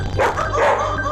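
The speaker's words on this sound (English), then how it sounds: "It's a dog." A dog barks in a short, fairly loud burst of yips and bow-wows, heard alone and close.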